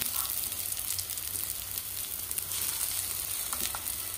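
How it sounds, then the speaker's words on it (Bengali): Giant taro paste sizzles steadily in hot oil in a pan, a continuous crackling fry with a few small pops and stirring scrapes, close and alone without voices. "এবারে সমস্ত পেস্টটা আমি এই তেলের মধ্যে দিয়ে দেব।"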